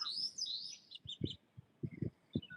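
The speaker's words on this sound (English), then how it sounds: "You might listen also certain bird sound" Birds chirp and tweet high in the trees of a leafy outdoor setting, a few short bright calls scattered across the moment, faint and somewhat distant, with low soft thumps underneath.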